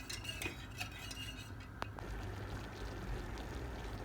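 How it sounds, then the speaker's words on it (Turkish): A utensil scrapes and clinks against the inside of a pot while stirring sugar syrup until the sugar dissolves, quiet, irregular strokes, soft and close, with a low background hum. "tenceremizi ocağımıza aldık şekerimiz eriyene kadar şöyle karıştırıyoruz."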